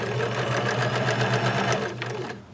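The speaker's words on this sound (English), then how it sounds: "sew all the way around against the one, removing pins as I need, and making sure I don't sew the skirt shut." A sewing machine runs steadily while stitching a skirt facing seam, a close, continuous whirring drone with a fast mechanical rhythm that slows and fades near the end.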